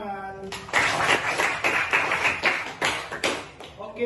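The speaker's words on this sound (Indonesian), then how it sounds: "Oke, tepuk tangan." Students in a classroom during a Catholic religion lesson clap their hands in a rhythmic, patterned sequence of taps and thuds, close and fairly loud, with voices chanting along between the claps.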